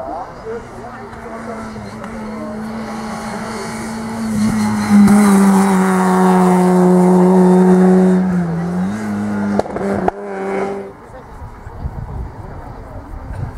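A Peugeot 306 S16 two-litre Group N rally car starts its run at the Laussonne hillclimb, its engine swelling to a loud, sustained rising roar before cutting away, with a commentator talking over it throughout.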